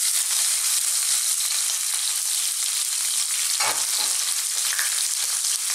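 Onions fry in a pan for a chickpea spinach curry, giving a loud, dense, steady sizzle throughout, broken near the end by a couple of brief stirring scrapes. No one speaks.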